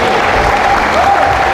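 A worship congregation claps together in dense, steady applause that stays loud and close for the whole short stretch, with a voice faintly audible over it.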